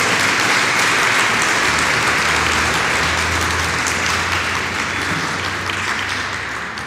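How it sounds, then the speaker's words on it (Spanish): Loud, sustained applause from a church congregation giving praise to the Lord during a sermon, a thick continuous clatter of many hands that eases off slightly toward the close. "Dale un aplauso fuerte al Señor."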